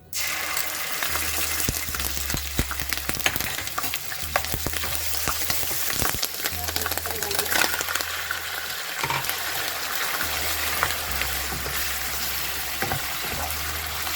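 Garlic-ginger paste fries in a pan of hot oil for chicken korma, giving a steady, dense sizzle with occasional scraping from stirring. The sound is continuous and close, with no voices.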